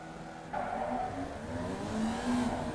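Formula Vee race cars launching from the grid at Tsukuba in the iRacing sim, with a steady engine drone that jumps louder as the pack accelerates, pitch rising through the gears, heard alone without voices.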